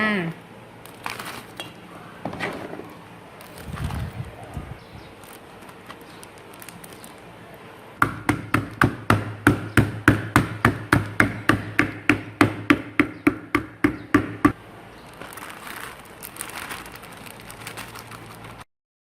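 A rapid series of sharp thuds, about fifteen in a row, pounds fruit in a crinkling plastic bag, with a little talk before and after.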